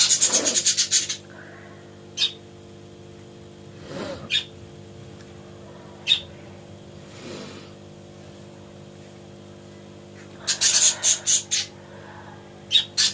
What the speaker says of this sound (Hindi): देखो हमारी चिड़िया भी चिल्ला रही है